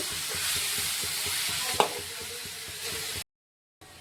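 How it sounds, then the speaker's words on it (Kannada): Chopped tomatoes with salt and turmeric are stirred in a hot frying pan, producing a continuous soft sizzle with a rhythmic scraping pulse and one sharper clink, close by, before a sudden drop into silence near the end. "ಇದು ಟೊಮೊಟೊ ಒಂದು ಸ್ವಲ್ಪ ಮೆತ್ತಗಾಗೋ ತನಕ ತಿರುಗ್ಕೋಬೇಕು ರೀ ಇದು ಮೆತ್ತಗಾಗೋ ತನಕ ನಾನು ತಿರುಗಿ ತಗೋತೀನಿ"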